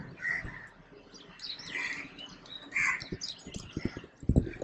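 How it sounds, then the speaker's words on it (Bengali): Birds chirp and call at around 6:30 in the morning, with bright scattered tweets rising over a quiet background and a few soft knocks near the end. "আওয়াজগুলো দেখো পাখির"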